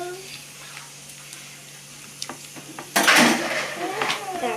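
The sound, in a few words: stirring slime mixture in a bowl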